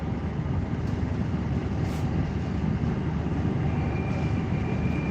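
A Moscow train runs with a steady, loud rumble and rolling roar from inside the carriage, continuous for several seconds with no talk.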